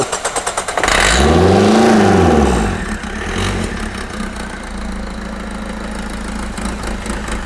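A car engine roars up in a strong rev, its pitch rising and falling, then settles back into a steady, throbbing idle.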